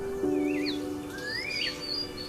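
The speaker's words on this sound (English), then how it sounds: "The whole place hums with the sounds of birds chirping." Several birds chirp and whistle at sunrise in a hill-country setting, with rising and falling tweets and a sustained tonal call over a steady outdoor background; the calls are moderately near and continuous with no talking.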